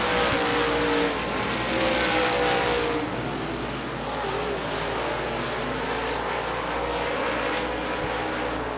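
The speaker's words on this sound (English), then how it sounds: "White flag in the air for Max Eddy Thomas, trying to take on both heat races tonight in the modified and late model divisions" Dirt late model race cars roar around Devil's Bowl Speedway during a heat race, a loud continuous engine drone with rising and falling revs from several cars at a distance, with no commentary audible.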